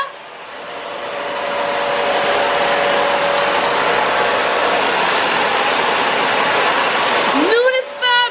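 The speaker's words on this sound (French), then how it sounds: "Tu passes l'aspirateur?" A household vacuum cleaner runs steadily and loudly in a home during cleaning, a broad continuous whoosh with a faint whine, cutting off near the end as a voice briefly speaks.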